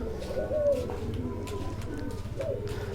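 Racing homing pigeons cooing close by in a loft, with repeated soft, throaty coos and a steady low background hum throughout.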